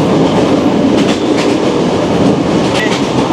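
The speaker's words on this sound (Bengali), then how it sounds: "ভালোই গতিতে এই ট্রেনটি চলছে আর কি।" The Sagardari Express from Khulna to Rajshahi runs at about 81 km/h, making a loud, continuous, close rumble of wheels on rails with faint clickety-clack beats throughout.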